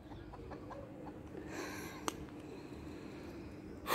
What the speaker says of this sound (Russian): Это моя курица